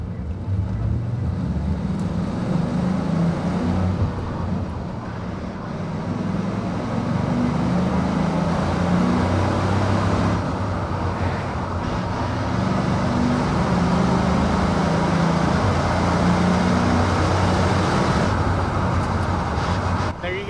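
A 1998 Ford F-150 regular cab step side 4x4 pickup with a 4.6 engine and five-speed manual, 69,000 miles, on a test drive; steady loud cabin rumble of engine and road noise with wind, continuous throughout.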